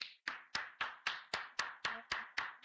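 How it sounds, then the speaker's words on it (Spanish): At a conference session, hands clap slowly and evenly, about ten crisp, well-spaced claps in a steady beat, faint and somewhat distant, with a short ring after each one. "les damos un fuerte aplauso"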